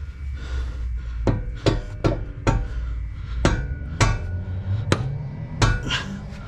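Metal hammer strikes ring out one after another, about eight sharp clanging blows at an irregular pace, close by, driving a CV axle into place on a 2014 Ford Escape.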